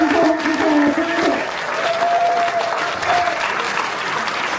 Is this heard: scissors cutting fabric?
no